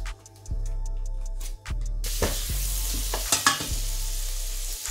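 Butter sizzles in a pan as the base for a tomato sauce for homemade Iskender kebab, a close frying crackle that rises after a quiet start, with hums and rhythmic ticks beneath.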